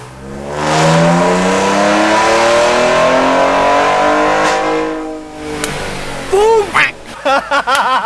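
A car engine revs hard with its exhaust valves open in a sport mode, rising in a long loud sweep that holds steady before cutting off, followed by short sharp blips near the end.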